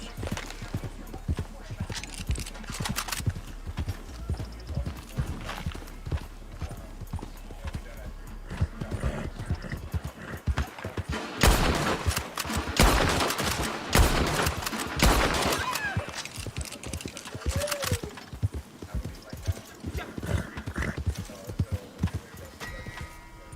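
Rapid hoofbeats of a galloping horse in a video game mix with gunfire bursts and a whinny, while voices talk loosely over the action.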